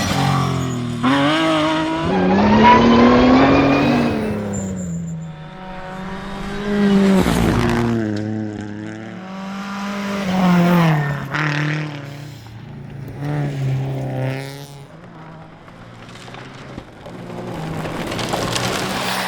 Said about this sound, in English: that straight cut gear noise is something else.